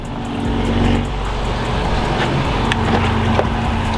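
A Lexus LS 460 drives along with a loud, steady engine drone and road roar heard from inside, a constant hum holding throughout with slight swells.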